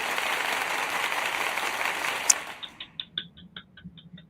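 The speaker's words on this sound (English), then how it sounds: "Let's all give a round of applause to Bob." A round of applause for Bob fills the room at a closing session, dense and steady at first, then dying away into a few scattered claps.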